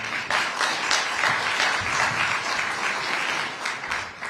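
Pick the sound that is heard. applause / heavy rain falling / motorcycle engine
applause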